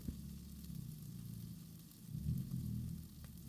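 Peas and chopped carrots sizzle steadily in about a tablespoon of hot oil in a pan, a continuous close frying hiss that swells slightly near the end, with no talking.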